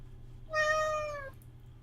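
A single clear cat meow, drawn out for under a second against a low steady background hum, close and alone.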